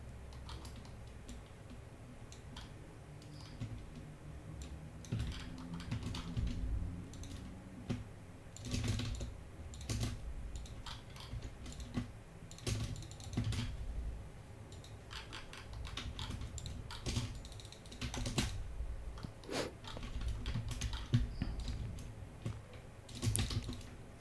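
Keystrokes on a computer keyboard tap out in quick irregular bursts, some clicks louder and sharper than others, with short gaps between runs and no talk over them.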